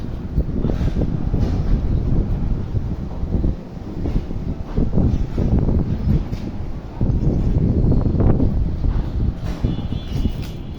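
Strong, sudden gusts roar across an open rooftop, a loud, continuous buffeting rush that swells and dips in waves with no pause, the wind hitting hard and close throughout.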